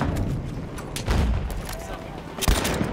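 Bursts of machine gun and rifle fire crack through a Battlefield 1 battle, with rapid volleys and heavier booms at irregular intervals, loud and close, while voices call out over the shooting.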